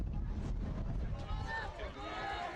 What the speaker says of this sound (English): a cold, windy day for being later in the spring